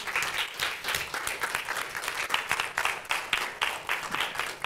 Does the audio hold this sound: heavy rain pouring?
no